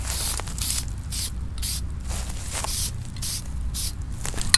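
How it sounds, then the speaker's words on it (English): An aerosol can sprays black paint onto a RAM 1500 emblem in repeated close hissing bursts with short pauses between them. "we'll go ahead and we'll spray the front one"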